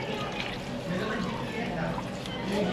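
Sprite is poured into a pot of adobo on the stove, giving a splashing, trickling pour of liquid under a person's voice talking nearby.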